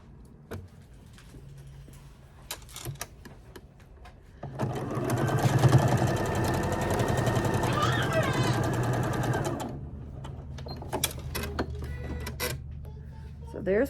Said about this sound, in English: So I'm going to sew these 2 together like this, right sides together, and stitch a 1/4 inch